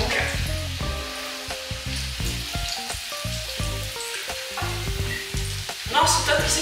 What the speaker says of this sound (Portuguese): A farinha de rosca no óleo quente, né?